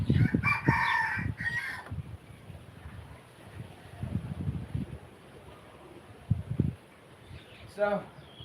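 Chickens on a garden plot cluck and crow in short bursts near the mic, with a rooster-like call early on and scattered fowl sounds through a quiet outdoor background.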